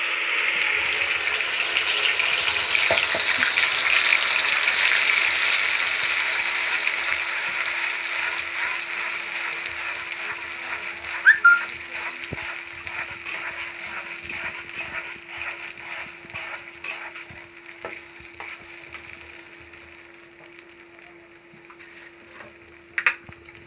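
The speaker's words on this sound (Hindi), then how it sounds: "अब मैं इसमें ग्राइंड करा हुआ मसाला डाल रही हूँ।" Ground spice paste with tomato sizzles and fries steadily in a pan for egg curry, a loud continuous hiss that slowly fades, with occasional scraping clicks of stirring.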